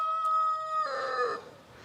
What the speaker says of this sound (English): the crowing chickens in the background